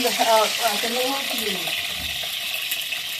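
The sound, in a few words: eggs frying in oil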